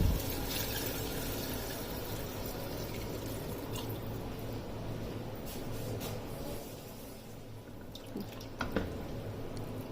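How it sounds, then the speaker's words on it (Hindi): Water poured from a measuring cup into a pot of chicken pulao, a continuous close splashing and trickling that holds steady with a few brief drip sounds near the end. "पानी भी मैं इसी कप से ही इसमें डालूंगी"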